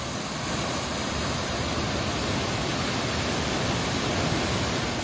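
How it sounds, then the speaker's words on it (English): A steady, powerful roar of water rushing through a gorge at Watkins Glen State Park, New York, loud and continuous throughout with no breaks and no voices. "You can hear the force of that water"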